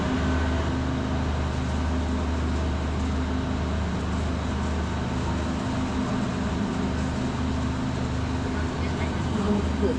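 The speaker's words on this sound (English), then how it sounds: "They're noisy, those diesel trains." Diesel trains at a big, busy railway station make a dense, steady low rumble and drone with a constant hum and a wash of background noise throughout, and no clear speech.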